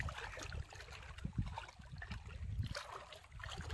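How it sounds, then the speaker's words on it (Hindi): Water of the Jonk river rushing and gurgling in a steady, close stream, broad and noisy throughout with no voices. "और पानी भी बहुत आ रहा है जोंक नदी में"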